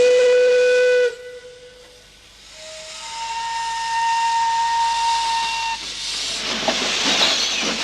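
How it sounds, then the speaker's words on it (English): A steam train whistle on the Isle of Man blows in sustained tonal blasts, shifting pitch, then fades into loud hissing steam and rumbling noise. "One of the few remaining steam trains offers a more relaxed form of transport."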